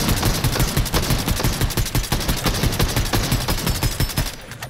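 Rapid gunfire in the video game Fortnite, a dense run of loud, sharp shots in quick rhythmic bursts that continue for several seconds before cutting off.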